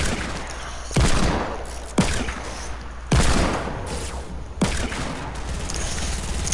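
Compact SMG bursts in a video game ring out in four loud, separate volleys spaced about a second apart, each a sharp crack followed by rattling decay over a constant low background rumble.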